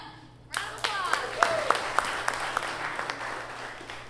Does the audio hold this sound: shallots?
no